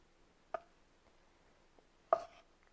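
A knife chops shrimp on a cutting board for a Japanese appetizer. Two crisp, separate thuds land about a second and a half apart in a quiet room.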